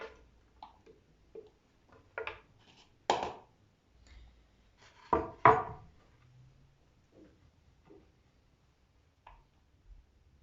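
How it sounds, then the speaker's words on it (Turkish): A knife taps a wooden board in irregular, close-up chops of tomatoes, a few sharper knocks standing out among softer cuts, with no talking. "Domatesini de doğrayın."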